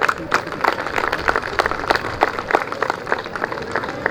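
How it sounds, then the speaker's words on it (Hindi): Audience applause at a large Hindu gathering, a dense burst of many hands clapping steadily throughout, fairly near and loud with no clear talk over it. "एक बार जोरदार तालियां।"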